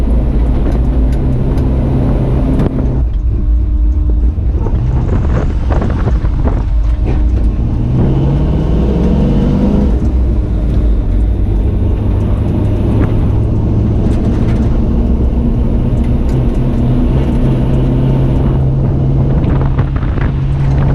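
A pickup truck's engine runs rough and uneven just after its transmission was reinstalled, with a loud, constant drone under heavy wind buffeting on the microphone.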